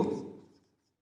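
Chalk or marker writing on a classroom board during a physics lesson on light, a short scratchy stroke that fades out within about a second, close and alone.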